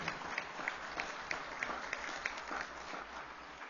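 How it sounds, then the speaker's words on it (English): Applause at a school board meeting, a small audience clapping in a brief, faint round of scattered claps heard from a distance. "Give Chris a quick round of applause."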